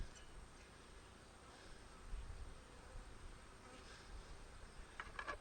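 Honey bees buzzing around a hive feeder where they crawl down to drink, a faint, continuous hum of many insects close by without any talk.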